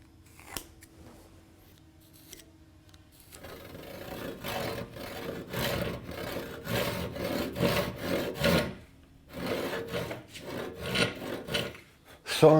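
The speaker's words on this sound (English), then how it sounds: "Sawing something like this across the grain diagonally" A handsaw cuts diagonally across the grain of a wooden chine log for a V-bottom skiff, rhythmic rasping strokes starting after a quiet pause, close and fairly loud with brief breaks between runs.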